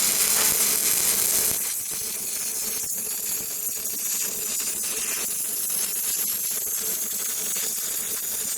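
Stick arc welding with a fresh rod gives a continuous loud crackling hiss with dense sputtering pops. The hiss is strongest in the first couple of seconds, then settles into a steady buzzing sizzle close by.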